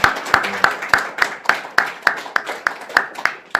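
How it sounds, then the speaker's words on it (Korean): A church congregation at a Sunday Thanksgiving service in Yangju claps in unison: sharp, loud claps fall in a steady, brisk rhythm, about three per second, with no talking over them. "우리도 박수로 하나님께 영광 돌리겠습니다"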